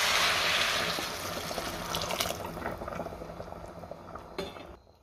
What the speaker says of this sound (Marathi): आता त्यामध्ये गरम पाणी घालायचं आहे.